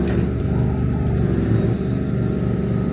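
Hydraulic pump on a 2020 Ford F-450 with an Altec AT200A bucket truck, working steadily as the boom extends with one pump driving two cylinders; a continuous low engine-and-pump drone holds at a near, even level throughout.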